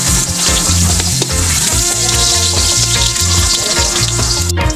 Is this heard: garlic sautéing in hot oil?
yes